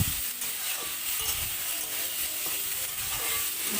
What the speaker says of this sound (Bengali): তারপরে ছোলাটা ভেজে নিচ্ছি